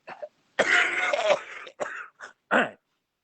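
A person coughs and clears their throat several times in a short fit, close and loud, with brief pauses between bursts.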